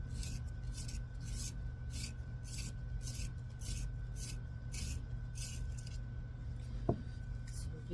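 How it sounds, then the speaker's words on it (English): A colored pencil is sharpened by hand in a series of about a dozen quick, rhythmic rasping strokes, close but soft over a low steady hum, with one small click near the end and no talk. "Sorry, sharpen a little bit."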